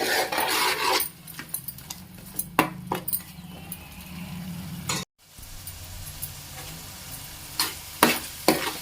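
Onion paste for a fish curry sizzles steadily in a pan, with repeated close scraping strokes of a spoon as it is stirred; there is a brief dropout midway, then the frying and stirring continue.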